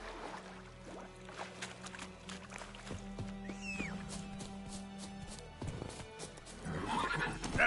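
A horse in The Witcher 3 gives a clear neigh over steady clip-clop hooves, the whinny rising mid-clip while the trotting continues near and even throughout.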